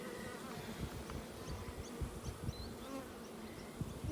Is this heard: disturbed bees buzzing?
yes